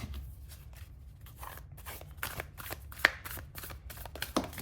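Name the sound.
shuffling a Nightmare Before Christmas tarot deck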